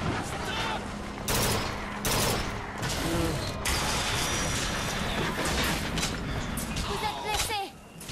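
Dense gunfire in the video game Bioshock Infinite, loud bursts of shots and crackling blasts layered over constant noisy combat din, with a voice talking in French through the chaos.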